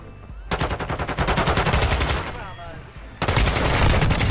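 Rapid bursts of automatic gunfire from a team shooter video game, loud and close, with a brief lull in the middle before another sustained burst resumes.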